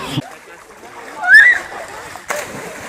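A swimmer jumps off a springboard into a river at a clean bathing spot, making a short splash followed by a second watery crash, with voices faintly in the background.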